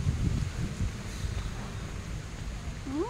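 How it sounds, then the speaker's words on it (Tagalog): Strong wind gusts buffet the microphone in a lakeside park in Taipei, a steady low roar with rustling, loud and close, with no talk. "Lakas ang hangin."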